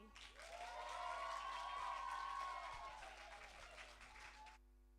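A talent show audience in London cheers and applauds for a closing dance group act, a dense wash of clapping and shouts at moderate distance that builds, holds, then tapers before cutting off.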